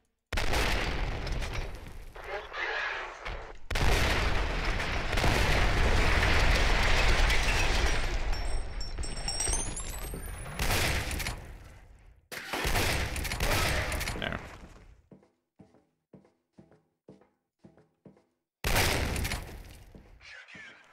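Loud, sustained bursts of rapid minigun fire in the video game F.E.A.R. Extraction Point, broken by brief pauses, then a run of sparse clicking shots and one final burst.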